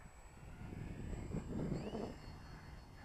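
A radio control airplane's engine is heard from a distance during landing, a faint buzzing drone that swells briefly, then eases off as the throttle drops.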